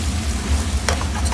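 Sliced mushrooms sautéing in melting butter in a pan, a steady close sizzle and crackle with a brief stir or scrape partway through, no voices.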